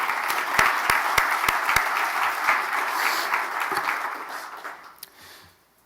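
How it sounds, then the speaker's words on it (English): A room full of people claps steadily, a few sharp close claps standing out, before the applause thins and fades away. "So just a round of applause for the entire team"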